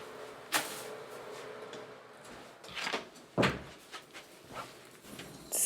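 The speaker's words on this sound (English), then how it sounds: "let me close this door" An indoor door is swung shut, giving several close wooden knocks and bumps with a sharp thud a little past the middle and quieter clicks and rustles around it, with no talking.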